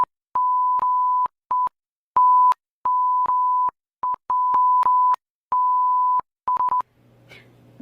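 A censor beep button sounds a loud steady mid-pitched tone in repeated bursts of varying length, some brief and some over a second long, chopped in an irregular rhythm, followed by a faint low hum at the end.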